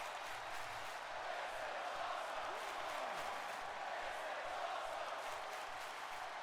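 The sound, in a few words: wrestling crowd cheering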